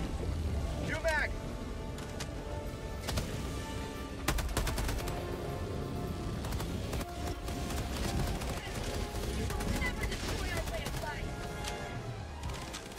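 Rapid gunfire from the Helldivers 2 video game, dense bursts and sharp cracks repeating across the whole stretch, loud and close, mixed with other game effects while players talk over it.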